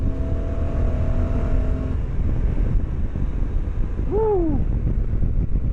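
A Honda NT1100 motorcycle being ridden, its engine a steady broadband drone under heavy wind rush at the microphone, with a brief whoop from the rider near the end.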